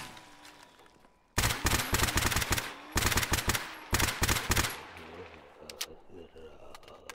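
Bursts of automatic rifle fire with armor-piercing rounds in the shooter Stalker GAMMA, loud rapid volleys in three clusters over a quieter background, tapering into scattered softer sounds afterward.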